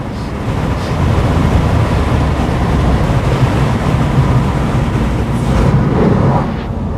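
A 2025 Ford F-150 Tremor pickup under full throttle, a loud continuous low roar of engine and wind rushing past for several seconds, heard from inside the cab with no talking.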